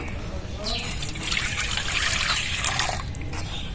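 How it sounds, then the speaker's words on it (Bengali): Milk poured into a bowl for coffee cake batter makes a steady liquid trickle that runs for about three seconds at close range. "এবার দুধটা ঢেলে নেবো"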